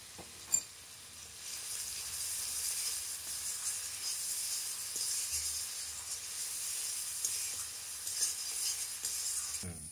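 Tomato and onion frying in a pan for a rustic fish curry, a steady, bright sizzle with soft hissing, occasional stirring knocks and a sharp clack near the start, without any talk.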